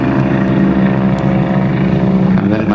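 A T-28 Trojan trainer aircraft at an airshow passes overhead with a loud, steady, droning piston-engine rumble, brief and close throughout.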